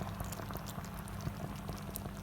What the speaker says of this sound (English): how that's just bubbling away in the pan